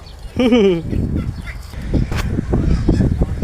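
A hen gives a short, loud squawking cluck near the start, followed by muffled voices and background chatter.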